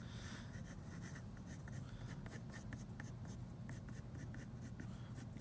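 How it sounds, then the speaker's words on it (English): Pen or marker scratching steadily across paper while drawing bubble letters, a close, continuous rubbing with quick repeated strokes and no talking. "now then you write your name"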